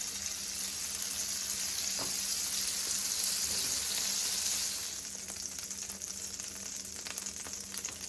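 Butter melting into about a tablespoon of olive oil in a hot pan, a bright continuous sizzle up close that softens a little partway through, with faint scrapes.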